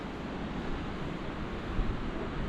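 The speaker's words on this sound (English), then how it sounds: "You can just hear the crashing of the water falling into the river." Water crashing as it falls into a river in the mountains of the Hunza Valley, Pakistan, a steady broadband roar of rushing water heard alone, with slight swells and no voices.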